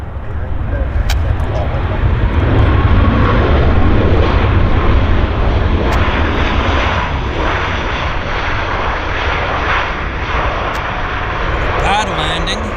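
An airliner lands at Vancouver Airport, its engines producing a continuous loud roar with deep rumble that holds steady throughout, while someone talks over it.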